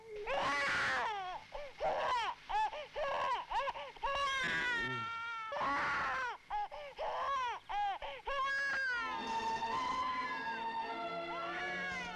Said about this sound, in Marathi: पोर रडतोय बघ